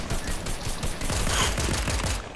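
Rapid bursts of automatic gunfire in the Fortnite video game, dense and continuous over steady game noise, heard without speech.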